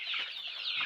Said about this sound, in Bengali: দেখেন, আল্লাহর রহমতে মুরগিগুলো মাশাআল্লাহ অনেক বড় বড় হয়েছে